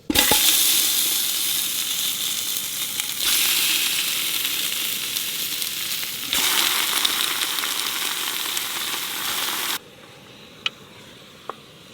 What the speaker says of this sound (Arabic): طبعا الحين بعد ما تغير لون البصل ننزل اللحم عليه